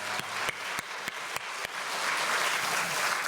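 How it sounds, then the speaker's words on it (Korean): A church congregation claps warmly at an Easter service, the applause swelling from a few sharp early claps into a dense, sustained wash of many hands in a large room, with no speech over it. "우리도 뜨거운 박수로 찬양합니다."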